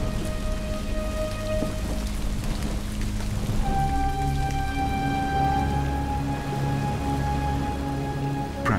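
Heavy storm rain pours down over the Mara River catchment in a steady, dense hiss of drops striking surfaces, with low rumbling underneath and no voices.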